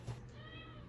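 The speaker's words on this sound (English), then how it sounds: "Now my cat just came in my room once again." A pet cat meows once briefly in a bedroom, close and fairly soft, over the steady low hum of a running heater.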